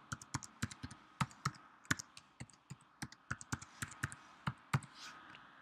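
Fingers tap out a password on a computer keyboard, giving a quick, uneven series of soft, close key clicks heard alone in a quiet room.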